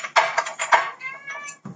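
An 18-year-old cat meows close by in a kitchen, letting out a few short, insistent cries in quick succession followed by a longer, drawn-out meow and a soft knock at the end.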